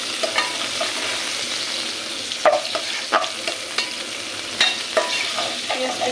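Onion fries in oil in a pan with a constant, bright sizzle, while a spatula stirs it in occasional scraping strokes, heard up close without any speech.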